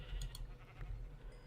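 Sheep in the Minecraft Better Than Wolves mod bleat a few times at close range over a low game background, with no talk.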